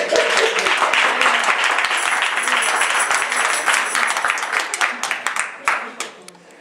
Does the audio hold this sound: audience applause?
yes